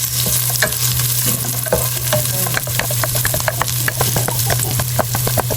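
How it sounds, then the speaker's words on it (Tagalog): Garlic and onion sauté together in a pan for a provincial-style sinuam, giving a close, steady sizzle broken by repeated clicks and scrapes of stirring, with no talking. "Magluluto na po tayo ng sinuam na lang ng itik. Ayan po, bali, sinabay ko na rin po yung bawang at sibuyas."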